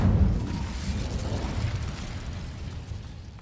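An Incendio fire spell cast in Hogwarts Legacy, a loud whooshing burst that fades into a rumbling roar of flame over a few seconds.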